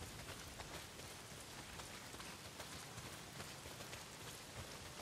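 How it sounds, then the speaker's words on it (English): Heavy rain pours down in the video game Days Gone, a dense, unbroken hiss and patter of drops, heard alone. "Well, not if it's pissing down rain."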